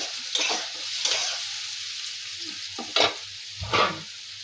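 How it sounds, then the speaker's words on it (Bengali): Eggplant sizzles in hot oil, with a few louder spatters and stirring noises against a constant frying hiss. "এই দিকে এই যে ভাজা চলছে, বেগুন ভাজা চলছে"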